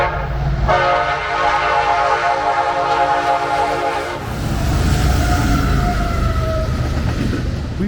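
A freight train on the Norfolk Southern Chicago Line near Toledo, Ohio, sounds its horn in a long loud blast, then rolls past with heavy rumbling and clattering wheels that continue to the end.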